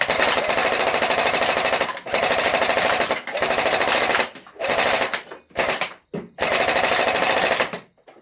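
A TAVOR 21 (TAR-21) from X-Force Tactical firing on full automatic, several long, rattling bursts of rapid shots separated by short pauses, then ending in quiet.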